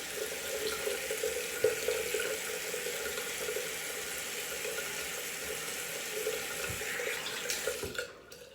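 A bathroom tap runs cold water steadily for several seconds during a straight-razor shave, a continuous hiss and splash that cuts off abruptly near the end.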